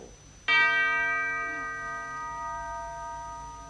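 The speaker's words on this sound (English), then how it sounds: "the sound of the church bell" A single church bell struck once, ringing out with a bright, sustained tone and rich overtones that slowly decay over several seconds, heard alone and fairly close.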